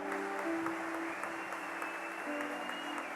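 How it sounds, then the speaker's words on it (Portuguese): Church congregation applauding during a sermon, a steady wash of many hands clapping at a moderate distance, fairly quiet and continuous, with a faint tonal hum underneath. "Aplauda ao Senhor Jesus, porque essa palavra é para a sua vida."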